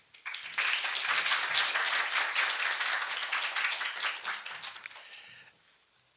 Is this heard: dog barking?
no